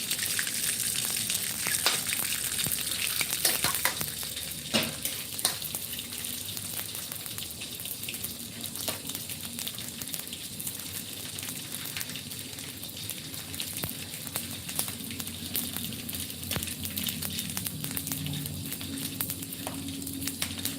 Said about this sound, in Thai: ครับเริ่มทอดหนังฟองครับ